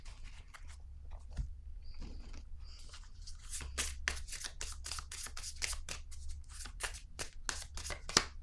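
Playing cards being shuffled and drawn close by, soft rustles at first building into a rapid run of crisp riffling snaps, with no talk.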